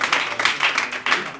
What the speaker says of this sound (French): C'est de l'art, on peut l'applaudir